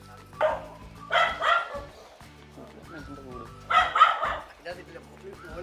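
A dog barks during an outdoor shoot, close and sharp in short clusters of two or three barks near the start and again later, with quieter gaps and a low steady background tone between bursts.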